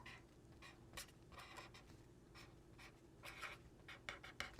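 An embossing pen writes block letters on a chalkboard ornament, producing faint, close scratchy strokes in short irregular bursts with no talking.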